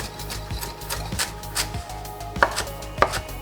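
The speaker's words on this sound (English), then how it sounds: "So the Swiss chard, we're gonna chop it." A knife chops Swiss chard steadily on a cutting board, a run of quick thuds followed by two sharper, louder cuts, close up with no talking.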